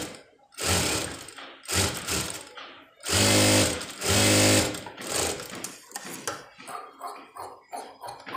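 A sewing machine stitches a sleeve lining for a Devsena-style blouse sleeve in loud, close bursts of rapid whirring, several runs of stitching broken by short pauses and softer handling noises.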